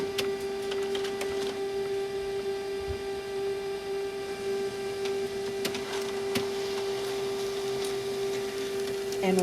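A laser printer prints on parchment paper, with a steady whirring motor hum and scattered clicks and clunks of the feed mechanism nearby, rising slightly at the end.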